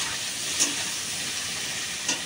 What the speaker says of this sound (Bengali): কালো জিরে দেওয়া হয়ে গেছে, ভালো করে ছাঁকলে নেবো